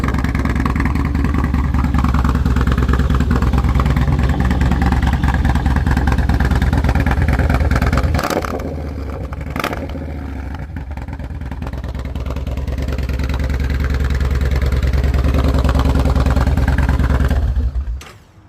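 A 2019 Yamaha Bolt motorcycle with about 2,600 miles idles loud and close with a steady, heavy engine rumble, dips briefly as the throttle drops, then swells back up in a sustained rev before cutting off at the end.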